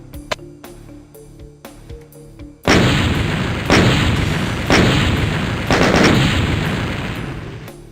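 Four heavy, booming gunshots from a big weapon in ZDoom, the Doom game engine, fired roughly once a second, each loud and close with a long decaying tail, after a few seconds of quieter game ambience with faint clicks.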